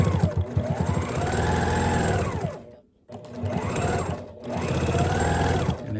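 A sewing machine edge-stitches a mask made from a store-bought scarf, running loud and close in two long steady bursts separated by a brief pause.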